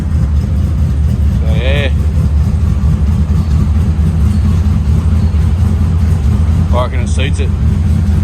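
A turbocharged LS1 V8 idles after a cam swap inside a shed, a loud steady rumble throughout, with someone talking briefly over it.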